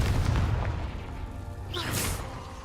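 Casting Confringo in Hogwarts Legacy sets off a deep booming burst that fades, followed by a brief airy whoosh, fairly loud with no voices.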